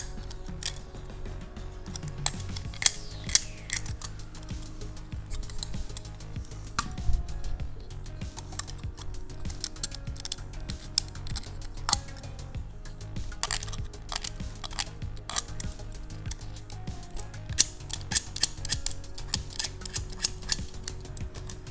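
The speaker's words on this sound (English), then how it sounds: "So let's grab our knife here." Knife scraping and snipping at wire to prepare a ground connection for a beginner end-fed half-wave ham radio antenna build; quiet, irregular clicks and ticks scattered over low background noise.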